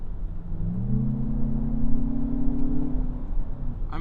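A 2025 Lexus RX 500h F Sport Performance hybrid drives with its engine sound enhancement set to high: a smooth synthetic engine drone rises steadily in pitch, then levels off under a constant rumble of road noise, heard from inside the cabin.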